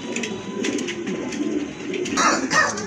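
A pair of large pied racer pigeons coos and rustles close by in a continuous low murmur, with sharper bursts of flapping or scuffling near the end.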